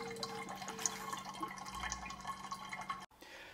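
Soft, steady dripping of water from a reverse osmosis water purifier into its tank, with a faint continuous hum underneath; quiet and close.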